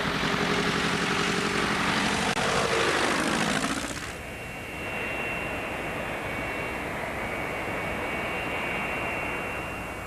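A bush airplane flying over Alaskan wilderness, a loud steady propeller-engine drone that sweeps down in pitch as it passes close, then settles into a softer continuing hum.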